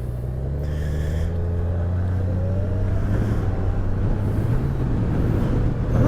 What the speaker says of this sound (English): Seemed like it kind of downshifted for a second as I was accelerating